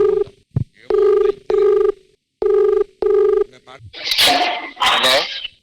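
A telephone ringing in a comedy stage sketch, a series of loud, even electronic rings with brief gaps between them, followed by louder, noisy vocal sounds at the end.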